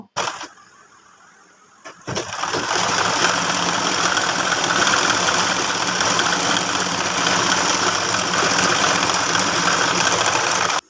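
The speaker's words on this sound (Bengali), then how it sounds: "দুইটা পার্ট আমি অ্যাডজাস্ট করে সাইড থেকে সেলাই বসিয়ে দিব" A sewing machine stitches the side seam of a baby frock, starting after a quiet moment and then running in a loud, steady, continuous motor whir with no talking.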